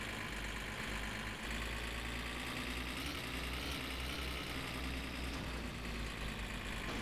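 Car engine in My Summer Car running steadily at idle with a low rumbling drone, continuous and fairly loud throughout, with slight swells in pitch suggesting light revving, no voices.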